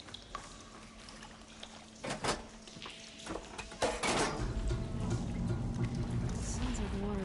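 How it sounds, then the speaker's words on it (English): Video game water starting to flow after a switch is thrown: a quiet background hum gives way to clunks and then a steady rushing, trickling pour that builds and continues to the end. "Sounds like the water's switched"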